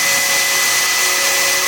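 A power drill drives a self-tapping screw while mounting a swing toolbox in a Ford truck bed. It makes one loud, steady, close-up whir that lasts the whole short stretch.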